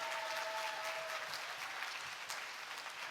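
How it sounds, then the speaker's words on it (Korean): Audience applause for a chamber orchestra and its conductor at a disability arts showcase, dense steady clapping filling the hall, even and sustained, heard from a distance. "다소니 챔버 오케스트라와 박농우 지휘자님께 다시 한번 큰 박수 부탁드리겠습니다"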